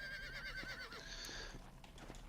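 A horse in the video game Red Dead Redemption multiplayer, faint clip-clop hoofbeats with a whinny-like neigh over steady background game sound, no talking.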